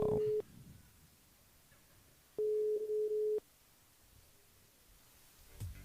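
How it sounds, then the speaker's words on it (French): A telephone line ringing out during a radio show call-back: two steady electronic ring tones, one short and one about a second long, separated by a quiet pause on the line. "rappelle Brigitte pour ce soir"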